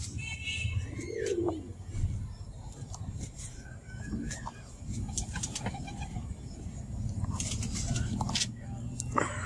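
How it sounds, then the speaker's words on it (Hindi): Pigeons coo softly nearby amid chirps and a busy outdoor background, with a person talking over them. "तो आप देख रहे हैं काफी इकट्ठे हो गए कबूतर"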